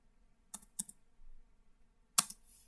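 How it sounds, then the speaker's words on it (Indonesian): Keys clack on a computer keyboard as a command is typed: a few sharp, close clicks in a short burst, a pause, then one more firm keystroke, in a quiet room. "di sini kita akan mengetik perintah"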